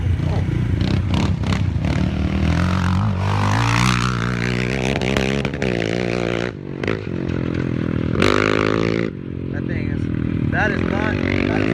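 Can-Am Outlander 700 ATV fitted with aftermarket exhausts, its engine revving and rising in pitch up close with a loud, rough roar, dipping briefly and surging again while people talk over it.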